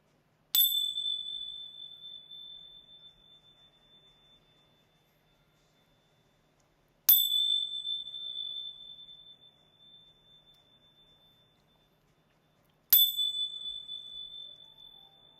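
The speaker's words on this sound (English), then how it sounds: "I'm going to ring my bells and we're going to get right into the cards. I'm going to ring these 3 times" A small bell rung three times, each a bright, clear ding with a long ringing decay fading into silence before the next, spaced evenly about six seconds apart.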